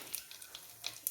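Raisins frying in hot fat in a pan for an oats payasam, a soft, faint sizzle with scattered small crackles and pops.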